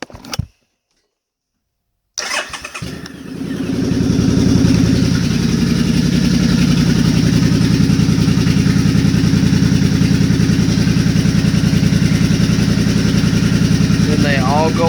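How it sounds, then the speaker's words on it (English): A Suzuki Boulevard C50 motorcycle engine with new fuel injection starts after a short silence and settles into a steady, throbbing idle that runs evenly, close by, to the end. "Then they all go off while it's idling"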